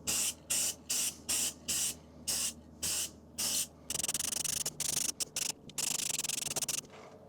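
A spray can lays white paint onto a custom-built vent in a rapid series of short hissing bursts, then longer, denser sprays, close and fairly loud with no talking.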